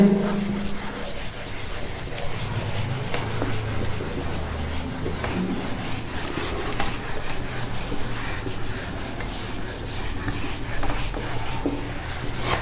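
A duster is rubbed back and forth across a classroom board to wipe away writing from a maths lesson, a continuous close scrubbing and rasping that goes on steadily throughout with no talk.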